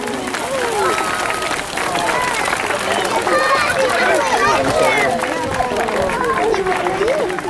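Crowd applause at a heritage-day guided tour, dense and steady throughout, mixed with lively crowd chatter and voices over a continuous wash of clapping.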